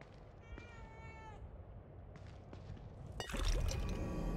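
A cat in The Evil Within 2 meows in a long, drawn-out call, then gives a few short sounds. A louder burst of liquid-like pouring and dribbling follows near the end.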